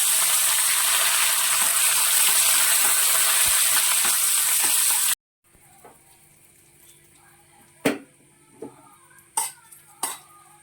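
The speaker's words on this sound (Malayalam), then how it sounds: "കടുക് നന്നായിട്ട് പൊട്ടി വരുമ്പോഴേക്കും നമുക്കതിലേക്ക് ഉണക്കമുളകും അതുപോലെ തന്നെ കറിവേപ്പിലയും കൂടി ചേർത്ത് കൊടുക്കാം" Mustard seeds, dried chillies and curry leaves sizzle in hot oil, a loud dense crackle that cuts off abruptly and gives way to quiet with a few scattered knocks and clatters.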